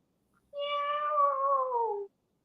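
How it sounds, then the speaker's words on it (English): A single drawn-out cat meow, clear and close, sliding downward in pitch over about a second and a half against silence. "The meowing gets to me. I hear the meowing."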